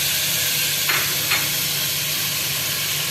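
Two tomatoes added to garlic ginger paste fry in a pan with a constant hissing sizzle, broken by a couple of brief stirring scrapes.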